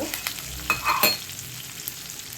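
Onions frying in a pan with ginger-garlic paste for a bitter gourd curry, giving a steady close sizzle with a few brief stirring scrapes near the start and middle. No one speaks.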